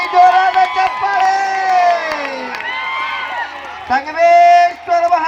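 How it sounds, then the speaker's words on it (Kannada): A crowd at a kabaddi match cheers loudly, with sustained shouts and whoops rising and falling over about five seconds. "ಜೋರಾದ ಚಪ್ಪಾಳೆ"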